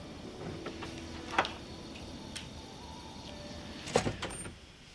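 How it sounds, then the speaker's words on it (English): Outer doors unlock and slide open in Fallout 3, with a few sharp mechanical clacks and clunks over a low hum, the loudest near the end, and no speech. "Looks like it's all clear, unlocking outer doors."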